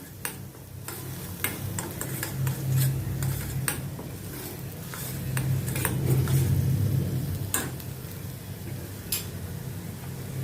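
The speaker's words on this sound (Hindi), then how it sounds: "अभी इन मसालों को भी अच्छी तरह से मैं प्याज के साथ भूनती हूँ।" Spices and onion being stir-fried in a pan for bhindi masala, with repeated light spatula taps and scrapes against the metal over a soft, steady sizzle.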